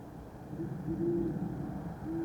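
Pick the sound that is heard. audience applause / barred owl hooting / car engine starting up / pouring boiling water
barred owl hooting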